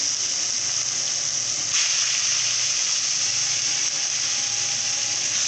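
A lemon-parsley marinated turkey deep frying in hot oil gives off a loud, steady sizzle and hiss that holds without a break, with no talking over it.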